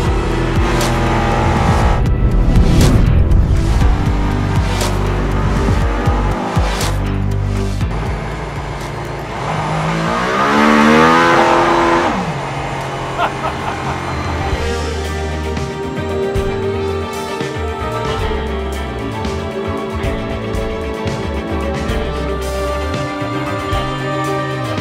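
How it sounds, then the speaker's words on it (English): A Mercedes-AMG hybrid race car engine screams at high RPM on the track in Barcelona, loud and close, with rising and falling revs and whining gear changes sustained throughout. "the engine is running at fairly high RPM."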